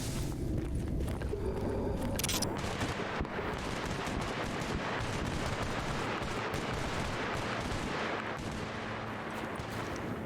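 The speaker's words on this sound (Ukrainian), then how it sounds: "Там наче якісь постріли та мутанти виють." Gunfire in the video game S.T.A.L.K.E.R. Anomaly, with loud, dense bursts of shots and booming reports filling the whole stretch over a rumbling outdoor background.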